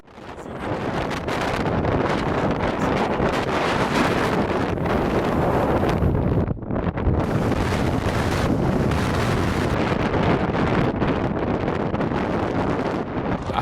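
Strong, gusting wind roars across the summit of Acatenango volcano in Guatemala, buffeting the microphone with a loud, continuous broadband rush that briefly drops out midway before surging again.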